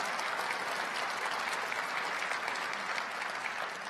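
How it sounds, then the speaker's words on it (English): Applause at a county State of the County address honoring retirees, a steady, fairly distant round of clapping from a large audience that holds evenly for the whole stretch. "please give a round of applause to them for the years of service."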